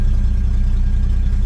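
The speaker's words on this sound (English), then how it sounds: "Engine sounds good." Engine of a 1972 Chevy C10 pickup truck running at a steady idle, a loud, close, low rumbling drone with an even pulsing throb and no voices over it.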